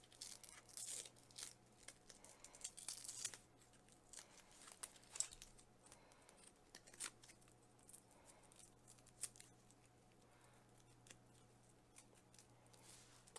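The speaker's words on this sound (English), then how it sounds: "I'm going to unwrap it." A power cable being unwrapped from its packaging while setting up HDMI over Ethernet gear, giving faint, scattered crinkling and tearing rustles with short snips spread through the stretch, quiet and close.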